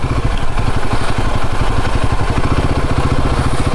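Royal Enfield Himalayan 450 motorcycle riding off-road on a rough road, a loud, close, steady thumping engine drone with rhythmic pulsing that holds throughout.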